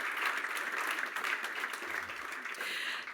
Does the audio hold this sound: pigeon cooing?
no